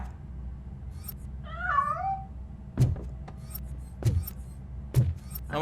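A cat meows in RoboCop: Rogue City, a single wavering mid-pitched meow standing clear of a low game-world hum, followed by a few sharp thuds.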